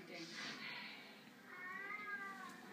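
A house cat meows from atop a television while watching cat footage, a drawn-out wavering mew near the end following a higher, breathier sound, with a voice talking in the room.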